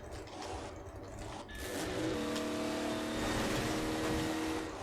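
A car engine in the Half-Life 2 video game runs steadily throughout, a continuous droning rumble that rises slightly in intensity partway through as the vehicle keeps driving.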